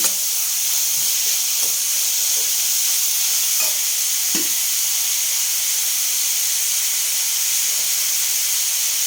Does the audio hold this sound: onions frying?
yes